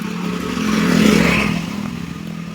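A scooter engine hums closer, grows loudest midway, then recedes as it passes by, with a steady motor whine throughout.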